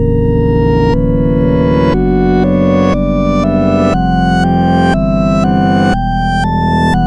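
Loud Sonic.exe chase music from Dead by Daylight played backwards, with swelling reversed notes that rise into abrupt cutoffs in a steady once-a-second rhythm over heavy bass.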